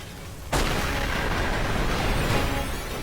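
A vehicle blows up in a battle scene from the anime Heavy Object, a sudden loud blast after a quiet half second that rolls into a sustained, roaring rumble lasting to the end.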